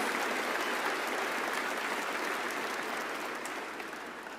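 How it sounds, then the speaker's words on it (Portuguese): A church congregation claps together during a worship service, a sustained, dense applause that stays steady and fairly loud before easing off slightly at the end. "Let's give the Lord a hand of praise for their lives."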